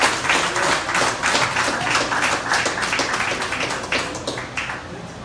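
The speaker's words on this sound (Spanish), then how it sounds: "Dale un aplauso porque esto le merece." A church congregation applauds during a sermon, a dense, steady wash of many hands clapping together that holds at an even level throughout, with no voices rising above it.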